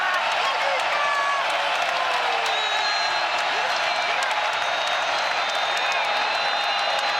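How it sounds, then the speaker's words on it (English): A packed basketball arena crowd at the women's WNIT championship game between Kansas and Columbia, fans on their feet, roars in a loud, steady, unbroken wash of noise. "this crowd, as loud as they have been all game long"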